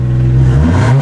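A 2JZ-swapped 2015 Ford Mustang with its muffler cut off idles loud and close. The deep engine note rises slightly in a brief rev, and no one speaks.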